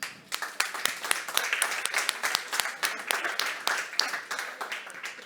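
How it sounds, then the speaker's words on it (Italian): Audience at a job-day conference in Tortolì, Sardinia, breaks into steady applause, a dense patter of many hands clapping at moderate distance that carries on throughout without talk. "Un grande applauso."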